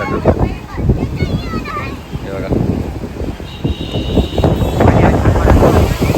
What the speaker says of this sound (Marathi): हे लाटा बघा कसला डेंजर आहे